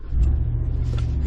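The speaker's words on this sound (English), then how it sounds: "So let's go ahead, fire the truck up," A 2022 Chevy Silverado ZR2 pickup's engine runs as a steady low rumble right after starting, close by and alone, with no talk.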